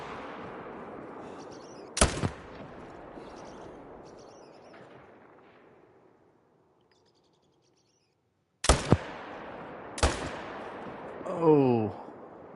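Gunshots from a rifle hunting whitetail deer in a hunting video game, with three sharp, loud cracks spaced far apart, each followed by a fading echo, amid quiet outdoor ambience with faint birdsong and a brief chirping call near the end.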